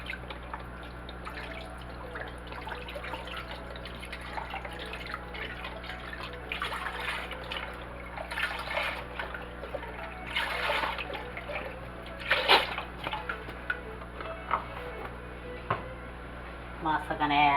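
Chicken stock pours and trickles steadily into a pot for a long stretch, with drips and splashes, a kitchen hum underneath and occasional speech.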